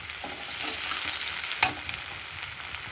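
Onion sizzles in oil with black cumin seeds, a close, even crackling broken by one sharp clatter of a spatula against the pan partway through.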